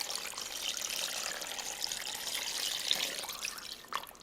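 Water pours steadily into an Instant Pot holding honeycomb tripe, garlic and onion for menudo, a continuous close splashing trickle with a couple of small clunks near the end.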